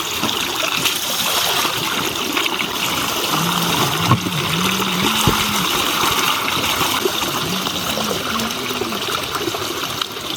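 Water runs steadily from a mountain spring as drinking water is collected, a continuous broadband rush close by with splashing, and faint background voices and brief tonal sounds over it.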